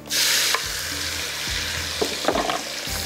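Mustard seeds and cumin sizzle in hot oil for a tarka, a steady bright crackle with a few sharper pops and stirring clinks, close and alone with no talk.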